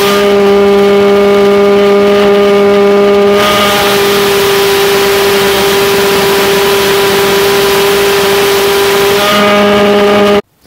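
A homemade pulse jet engine burning MAP gas roars close and very loud with a steady droning, buzzing tone that holds for about ten seconds and then cuts off abruptly.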